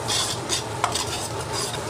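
Chili bean paste, ginger, scallion and garlic are stir-fried in oil with dried chili powder and a little beef tallow hotpot base, giving a loud close sizzle under repeated quick stirring and scraping strokes, with no voice.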